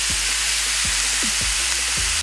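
Oil-rubbed fish searing in a dry grill pan gives a steady, close hiss and sizzle, with a few soft pops and crackles scattered through it.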